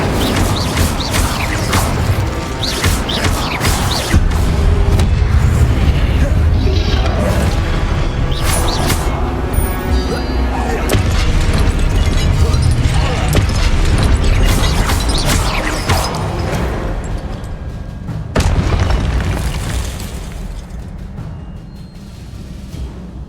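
Spell blasts from Incendio and Confringo in the game Hogwarts Legacy, a dense run of loud booms, crashes and impacts one after another over a continuous rumbling game soundtrack, with a short break near the end.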